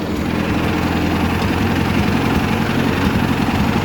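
A 1964 Ford 4000 tractor engine runs steadily while backing in reverse, a loud, close, continuous low diesel rumble with a throbbing mechanical texture and no talk over it.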